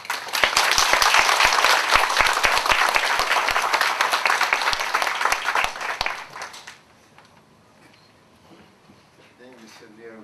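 Sustained applause from an audience at a Tippie MBA graduation ceremony in Hong Kong, dense clapping for about six seconds before fading, followed by a quiet stretch with faint speech.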